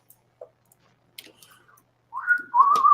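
A man whistles a short, clear rising note that swells into a sustained, slightly wavering tone after a few soft clicks and taps, close and alone.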